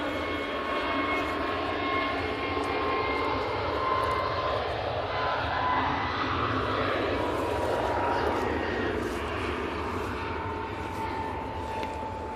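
An EasyJet jet airliner departs Manchester Airport for Amsterdam, a sustained, even engine roar with a rising whine held at moderate distance throughout, with no talk over it.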